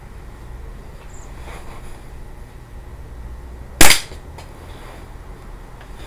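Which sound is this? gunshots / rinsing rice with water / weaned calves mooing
gunshots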